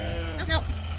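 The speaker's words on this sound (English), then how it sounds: "Gotta do my talking out here before the sheep see me, because they're so noisy." A single short sheep bleat on a farm, close and fairly loud, rising briefly over a steady low rumble of background noise.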